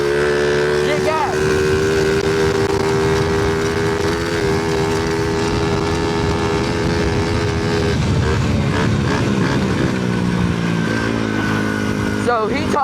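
A go-kart engine races around a private dirt track, giving a close, continuous buzzing drone whose pitch climbs and dips as the kart accelerates and brakes. Voices occasionally cut in over the engine.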